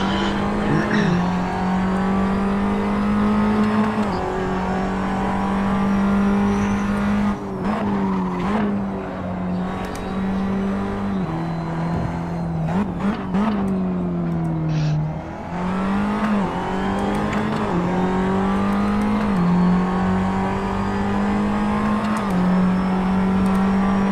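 A race car engine drones loudly and continuously from onboard during a 2017 race at Paul Ricard circuit, pitch rising and dropping with gear changes and braking over a long stretch.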